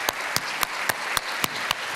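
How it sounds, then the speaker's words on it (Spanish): Audience applause for two forum speakers, heard as a steady spread of clapping with a few sharper, evenly spaced loud claps punctuating it, fairly close and without speech. "El aplauso para ellos."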